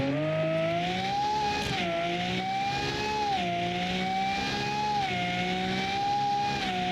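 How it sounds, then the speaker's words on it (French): A racing car engine in the video game BeamNG screams at a high, steady pitch, rising and dipping slightly as it holds near full revs. "cette voiture hurle à la mort"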